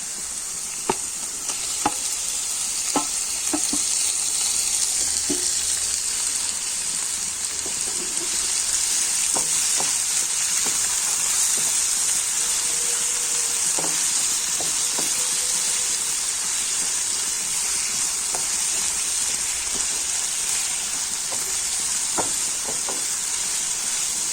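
Tomatoes fry in a pan with onions for chicken curry, giving a steady hissing sizzle with a bright steamy edge. Scattered clinks and scrapes of a spoon stirring come through now and then.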